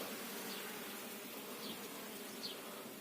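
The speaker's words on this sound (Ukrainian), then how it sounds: "Зараз подивитись, це називається рій вилетів" A swarm of honeybees flying out of a hive: a faint, continuous buzzing drone from many bees, even and steady, with a few individual bees passing closer.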